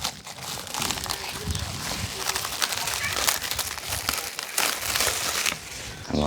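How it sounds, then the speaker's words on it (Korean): Plastic vinyl being peeled off cured silicone waterproof paint, giving a dense crinkling, crackling rustle that runs continuously with small bursts, close and fairly loud. "비닐을 한번 벗겨보면"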